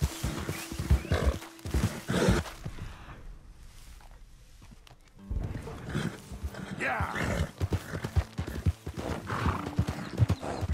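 A horse gallops in Red Dead Redemption II, with rhythmic hoofbeats, snorts and game ambience, under bursts of someone talking in Spanish.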